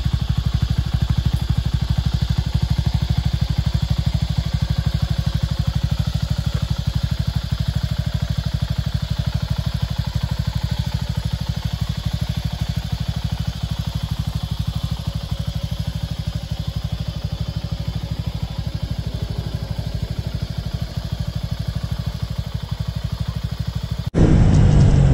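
A Suzuki Gixxer 250 naked motorcycle's engine drones steadily while riding: a loud, even single-cylinder hum held close for the whole stretch, with a brief change right at the end.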